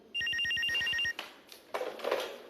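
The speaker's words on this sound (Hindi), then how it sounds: "लेकिन बज तो फोन रहा था।" A telephone rings loudly in a home, a single burst of rapid electronic trilling pulses that cuts off after about a second, followed by faint household rustling and brief indistinct sounds.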